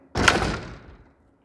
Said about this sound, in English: So coming through the door